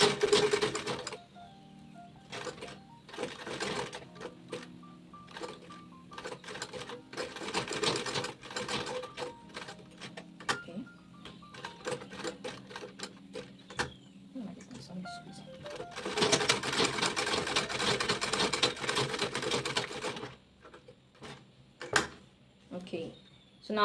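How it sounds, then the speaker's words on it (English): A sewing machine runs a box stitch around a bag, its rapid mechanical whir coming in repeated bursts with short pauses, the longest run near the end. "So I'm just going to sew before back stitching, sew all around and then back stitch later on."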